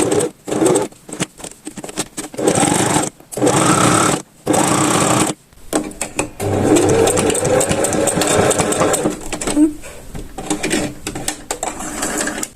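A sewing machine stitches fabric around a rabbit plush, running in loud buzzing bursts separated by short pauses, then a longer, steadier stretch of stitching with small mechanical clicks.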